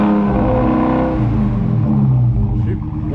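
A Dodge Hellcat with its mid muffler deleted revs hard up close, a loud, raspy roar that climbs and falls and keeps going for the whole stretch, with people talking over it.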